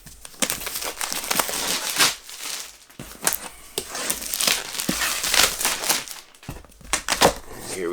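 Plastic wrap is cut and pulled off a printed black cardboard box holding an NAD M28 multi-channel power amplifier, a loud, close, continuous crinkling and tearing with sharp crackles throughout.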